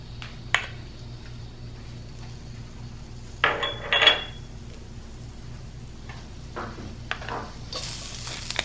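Garlic sizzles in oil over medium heat as it is stirred in a pan for red curry noodle soup. A quiet low sizzle runs throughout, broken by a few sharp scrapes and clinks of a utensil against the pan.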